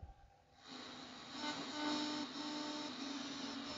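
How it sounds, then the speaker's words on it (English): RTTY radioteletype signal tuned on a Marconi CR100 shortwave receiver around 4.6 MHz: a steady buzzing data tone with hiss that swells in after half a second and holds continuously, alone without speech. "Sounds like RTTY anyway."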